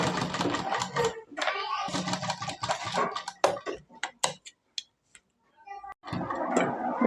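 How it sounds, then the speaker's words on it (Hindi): A sewing machine stitches along the edge of a frock in rapid, close, whirring runs at the start and again at the end, separated by a quieter stretch of scattered ticks and clicks, with someone speaking over the machine. "इस तरह से दोस्तों हम इस तरह यहाँ किनारे पर सिलाई लगा लेंगे।"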